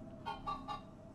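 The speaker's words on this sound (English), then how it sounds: "Kijk naar die kippen." Three short, evenly spaced chicken clucks sound from the game Minecraft: Story Mode, clear but soft against a quiet background.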